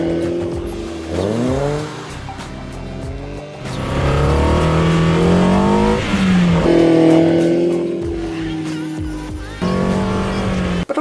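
A BMW S14 four-cylinder engine revs hard toward the top of its range, with rising and falling harmonic sweeps, loud and close across the clip, and brief dips between pulls.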